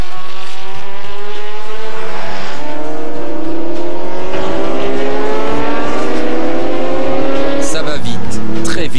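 Historic race cars start at night at the Le Mans Classic, with loud engines revving and rising in pitch as they accelerate away, layered over one another, and a tire squeal near the end. A voice speaks over the engines.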